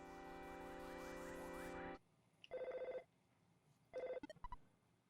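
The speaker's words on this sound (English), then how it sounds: "Phone call from Dad." A telephone rings for an incoming call in the EarthBound video game as two short chiptune ring bursts, followed by quick blips and tones, after a dense stretch of game music cuts off.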